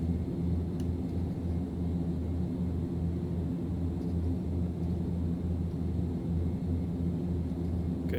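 Carenado Fokker F50 airplane climbing in a flight simulator, a steady low turboprop engine drone and rumble inside the cockpit, constant and unbroken.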